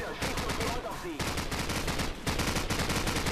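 Rapid machine gun fire from the video game Call of Duty 4 Modern Warfare rattles in dense, continuous bursts with brief gaps, loud and close, with a faint voice underneath.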